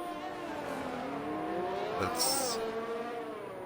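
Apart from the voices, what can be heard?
race car engine revving high, Xbox racing video game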